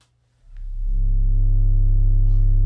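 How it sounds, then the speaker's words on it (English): Pure sine tone from a Eurorack STO oscillator module, fading in after a brief silence and holding as a steady, smooth, loud low hum tuned around C. "this is a sine wave out of the STO"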